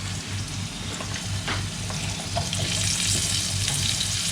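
Onions frying in a pan for devilled sausages, a loud, dense, continuous sizzle with faint stirring scrapes, close up and steady throughout.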